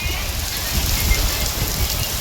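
Heavy rain pours down in a dense, continuous hiss, close and loud, with no clear break.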